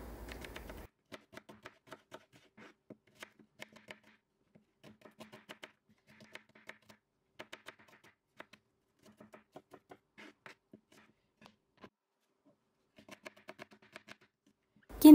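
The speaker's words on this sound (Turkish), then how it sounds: "Bir kilo kuru soğanı yemeklik olacak şekilde doğrayalım." A knife chops a kilo of dry onions on a board with soft, irregular taps that come in short bursts with pauses between, faint and close in a quiet room.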